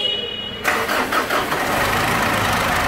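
A diesel pickup engine, a Mitsubishi Triton, cranks and catches after a head gasket repair and bled injectors, going from a brief starter whir into a loud, steady idle that continues to the end.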